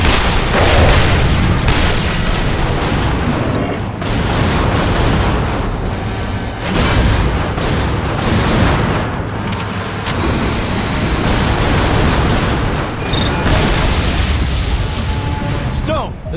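Explosives detonating on an artillery battery in a video game, with heavy booms and rumbling blasts filling the scene loudly and continuously, under voices and game effects.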